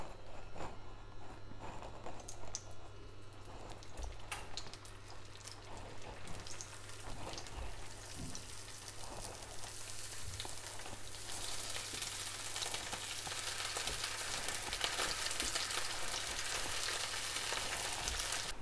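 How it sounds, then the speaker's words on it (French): Vegan soy-protein balls fry in hot deodorized coconut oil, giving a steady, dense sizzle that swells louder and brighter partway through and crackles continuously with no one talking. "Quand l'huile est bien chaude, je mets mes boulettes et je les fais dorer de chaque côté."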